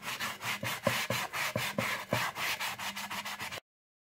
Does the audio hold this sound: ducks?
no